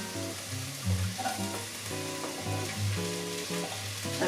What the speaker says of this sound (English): Stir it about a bit, get your potato chunks broken up and separated